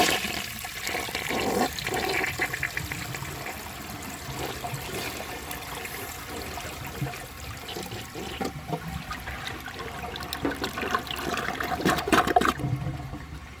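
A 1980 Crane Radcliffe toilet flushes in one long, steady, loud rush of water, with swirling and trickling that builds toward the end before cutting off.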